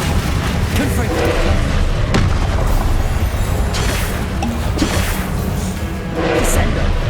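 Repeated booming blasts and crashes from the Confringo fire spell in Hogwarts Legacy combat, dense and loud, with overlapping whooshes and impacts throughout.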